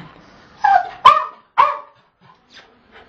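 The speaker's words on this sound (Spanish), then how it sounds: "¿Qué pasa? ¿Qué ladras?" A dog barks three times in quick succession at a toilet inside a home, sharp and close, then trails off into faint whimpers and yips.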